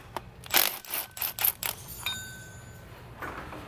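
Bolts zapped out of the transmission flange of a 2006-2011 BMW E90 328i with an N52 engine, heard as a quick run of close metallic ratcheting clicks and clinks, then fainter tool rattles, without voices.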